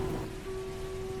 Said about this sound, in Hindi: बरस रही है बारिश बाहर